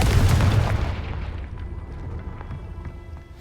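A fiery Confringo spell blast in the Hogwarts Legacy video game: a loud, close explosive boom that rolls off into a fading rumble and debris noise over a few seconds.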